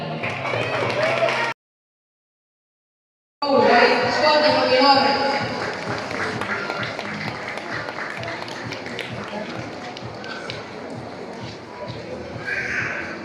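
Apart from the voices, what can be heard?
applause for the winners at a para sports event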